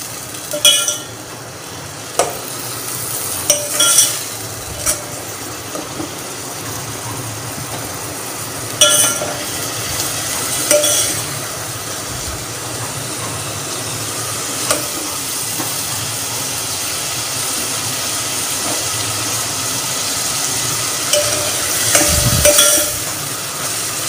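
Bitter gourd (karela) and onion fry in a pan as a steady, moderate sizzle, with occasional sharp clinks of a utensil against the pan.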